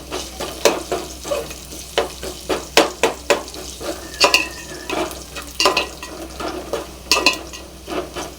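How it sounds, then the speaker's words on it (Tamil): Onions sauté in a pan for fish curry. A spatula scrapes and stirs in brisk repeated strokes over a low, constant frying hiss, close and fairly loud. "வெங்காயம் வதங்கிடுச்சு."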